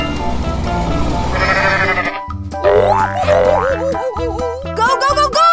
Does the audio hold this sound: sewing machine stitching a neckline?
no